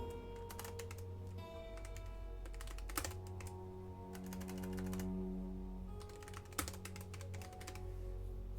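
Typing on a computer keyboard during an online game session, quiet rapid key clicks in irregular clusters with a few sharper taps, heard close and alone over a soft background hum.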